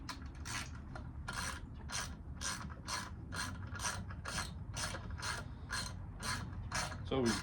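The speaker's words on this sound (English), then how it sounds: "we're going to be taking off those 10mm bolts" A hand ratchet backs out 10mm bolts on an outboard motor housing, clicking in quick rapid bursts of sharp ratcheting strokes, close and fairly quiet, with brief pauses between strokes and no talk.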